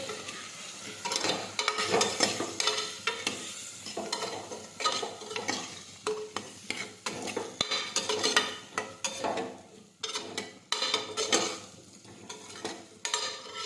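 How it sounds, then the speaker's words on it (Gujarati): A spoon scrapes and stirs spices and potatoes in a sizzling pressure cooker in repeated strokes, close and fairly quiet, with no talking. "હવે બધા મસાલા છે તે આપણે મિક્સ કરી દઈશું આ રીતે."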